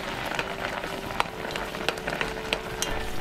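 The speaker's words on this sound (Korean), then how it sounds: "끓기 시작하면 수저로 휘휘 저어주세요." A pot of octopus, carrot and rice comes to a boil over medium heat, giving a steady close bubbling and crackling hiss with scattered sharp pops, like a spoon clinking and stirring through it.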